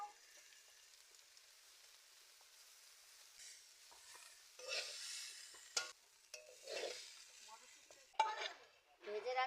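Chow mein noodles stir-fried in a pan at home, quiet at first, then stirring scrapes and bursts of sizzle rising and falling in uneven waves, with occasional clinks of the utensil against the pan.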